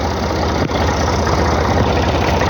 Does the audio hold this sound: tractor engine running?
yes